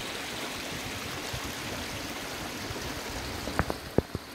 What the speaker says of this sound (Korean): 아, 물소리만 들어도 좋네요.